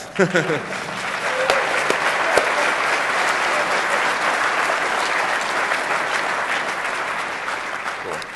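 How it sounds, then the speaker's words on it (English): An audience at the DEF CON 19 hacking conference claps after a presentation, loud sustained applause from a large crowd filling the hall, steady throughout with a few sharper individual claps. "Clap. Clap."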